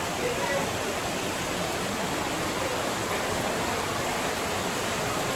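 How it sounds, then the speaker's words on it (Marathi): A waterfall in a hilly cave setting pours with a steady, dense hiss of falling water, constant and fairly loud throughout. "इकडे किती सुंदर धबधबा आहे बघा, पाण्याचा फ्लो बघा"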